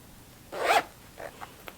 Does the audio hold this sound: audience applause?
no